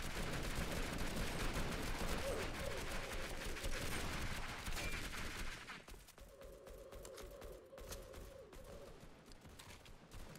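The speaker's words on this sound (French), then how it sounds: "C'est un fusil à pompe, mais il va super loin." A pump-action shotgun in a Roblox combat game fires amid rapid bursts of gunfire, a dense crackling barrage that thins to quieter, scattered shots.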